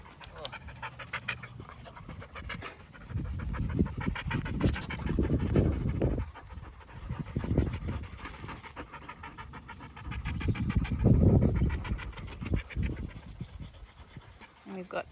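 A 16-week-old Belgian Malinois puppy pants heavily in rapid rhythmic bursts, close to the mic, with brief pauses between runs of breathing and faint background voices.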